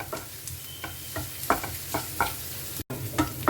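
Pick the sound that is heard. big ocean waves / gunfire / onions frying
onions frying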